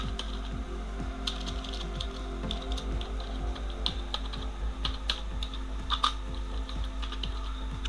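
Rapid, uneven clicking of keys on a computer keyboard as table field names are typed into a database, close and clear with brief pauses between bursts.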